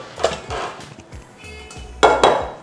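Metal inner vessel of an OPOS pressure cooker clinking as it is lifted out during javvarisi kheer preparation, a few sharp close clanks with a bright pair near the end, no talk.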